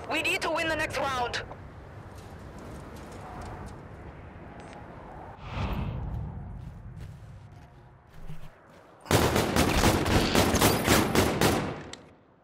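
Gunfire in a search and destroy round of a shooter video game, with a sustained loud burst of rapid shots near the end after quieter stretches and a brief earlier pop, while people talk.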